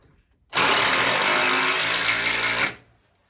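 A power drill bores with its bit during rawhide making, a loud, steady burst of about two seconds that starts and stops sharply, with quiet before and after.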